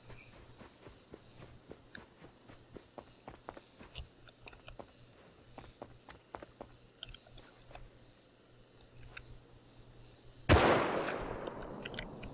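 A loud gunshot in the survival video game Rust cracks out once near the end, ringing off into a decaying tail after a stretch of soft footsteps and small ticking sounds.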